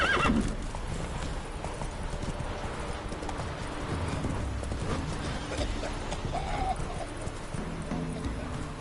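Roach the horse galloping in The Witcher 3, steady rapid clip-clop of hooves throughout with a whinny at the start and game dialogue over it.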